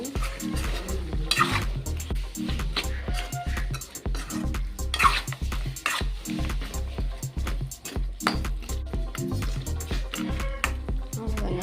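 Chettinad-style chicken uppu curry is stirred in a pan after a handful of coriander leaves goes in, with rhythmic wet scraping and squelching strokes and a light sizzle, close and continuous, no talking.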